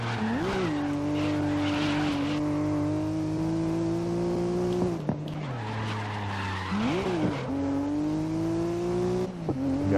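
Race cars in the video game GRID, including an R32 GT-R, skid with long wavering tire squeals over steady engine drone. The squeals swell and break off twice, and a few brief knocks cut in.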